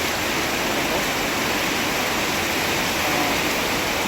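A river whose flow has picked up after rain, a steady, loud, unbroken rush of moving water close by with no voices.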